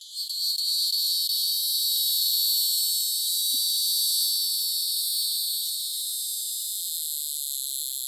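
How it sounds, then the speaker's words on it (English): A hieroglyphic cicada calls from pine barrens, a steady, bright, high buzzing drone that holds loud and unbroken throughout and eases slightly near the end. "This is the hieroglyphic cicada"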